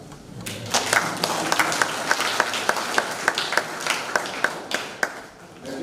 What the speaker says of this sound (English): I think everybody deserves a clap.